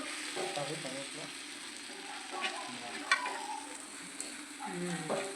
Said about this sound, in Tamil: நல்லா வதக்கணுங்க நல்லா வதங்கட்டும்